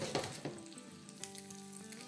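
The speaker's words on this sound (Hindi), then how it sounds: "ये डाल देंगे ताकि ये भी साथ साथ फ्राई हो जाए" Green chillies dropped into hot oil beside sizzling mutton chops, a soft crackling fry with a few light taps at first, then a steady quiet sizzle close by.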